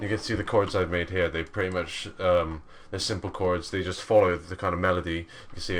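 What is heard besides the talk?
No distinct noise like a dog, phone or traffic.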